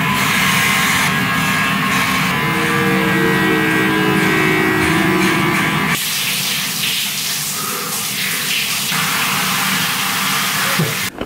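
Electric clippers cut hair down to a very short buzz cut, giving a steady close-up buzz with a hissy edge. The tone shifts partway through as the clippers move. No one speaks.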